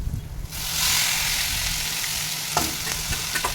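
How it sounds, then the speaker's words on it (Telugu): Broad beans and onions are stir-fried on high heat, with a loud steady sizzle and hiss under occasional scraping stirs of the spoon against the pan, close by. "చక్కగా ఒక్క నిమిషం హైలో పెట్టి బాగా అటు ఇటు కదులుతాం"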